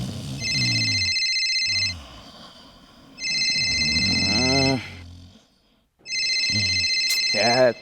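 A telephone rings in a comedy stage show, three bursts of a bright electronic ringtone separated by pauses, with voices and laughter-like vocal sounds underneath and between the rings.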